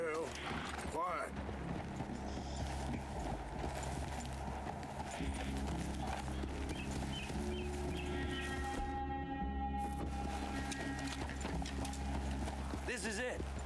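Horse hooves clip-clop steadily in a video game over a constant low rumble, with music or ambience and a voice talking over it, the hoofbeats moderately close.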